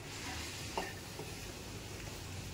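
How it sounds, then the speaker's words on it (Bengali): Quiet stirring of capsicum bhaji in a pan with chili and coriander powder, a soft sizzle underneath and a couple of faint scraping knocks from the spoon, no talking. "আমি ভালো করে এটাকে নেড়ে দেবো"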